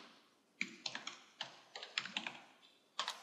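Typing on a computer keyboard, a few short bursts of quick key taps separated by brief pauses, close and fairly quiet with no talking.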